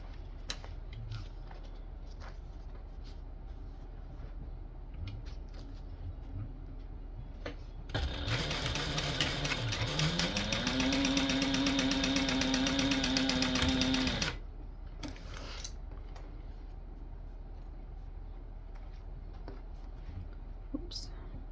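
A sewing machine bastes the lining panels of a small tote bag with a quarter-inch seam, a steady mechanical whir running for about six seconds, winding up to speed and then stopping, amid quiet handling noises.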